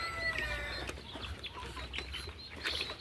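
Golden Misri chickens and a rooster cluck and chirp in short, scattered bursts, fairly faint and close, with soft farmyard background noise.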